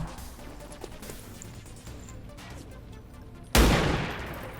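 A single loud, sharp gunshot from a shot taken in the video game XCOM 2 (modded) cracks out near the end, its blast decaying over a second after a stretch of low background noise.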